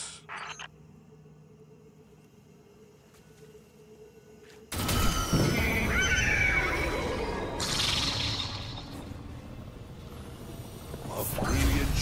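A horse whinnies in the Destiny 2 game, a synthetic-sounding neigh rising over a dense ambient game mix after a quiet low hum, with sliding and rumbling effects around it.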